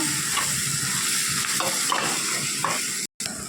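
Tomato puree stirred into a sizzling egg and dried prawn curry in a pan: a steady close frying hiss with scraping stir strokes, broken by a brief silent gap near the end.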